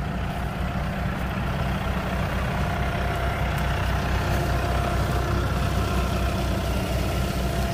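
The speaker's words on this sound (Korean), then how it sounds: "트랙터에서 이렇게 라인을 타고 들어가서 이렇게 뿌리죠" A tractor spreading microbial fertilizer in a corn field drones steadily up close, a constant low rumble with mechanical clatter throughout and no pauses.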